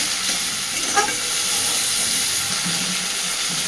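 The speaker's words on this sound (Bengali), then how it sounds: "সুন্দর করে লাল লাল করে গুগলিগুলোকে আগে ভেজে নেব।" River snails fry in oil in a kadai, giving a dense, loud, unbroken hiss and crackle close by, with no one speaking.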